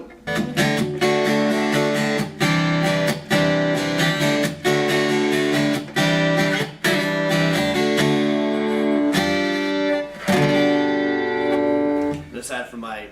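Taylor acoustic guitar played through a Roland AC60 acoustic amp, strummed chords and picked notes ringing out loud and steady, with brief breaks between phrases and no talking.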